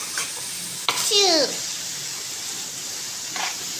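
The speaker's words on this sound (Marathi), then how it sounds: "चिरलेली पत्ताकोबी घालते मी." Chopped cabbage stirred and fried in a pan, a close hiss of sizzling with a sharp scrape and a quick rising squeak from the utensil early on, then softer steady frying.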